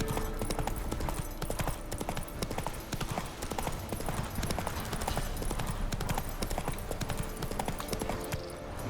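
Roach, the horse in The Witcher 3: Wild Hunt, gallops with a fast, continuous rhythm of clip-clopping hoofbeats. The steady pounding stays close and loud for the whole stretch.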